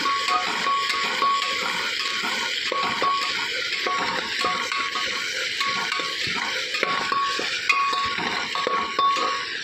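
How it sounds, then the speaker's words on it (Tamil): Onions sauté in ghee and oil and are stirred steadily with a spoon, producing a continuous close sizzle broken by frequent scraping and light metal clinks against the pan. "வெங்காயம் இப்படி வதக்கணும்."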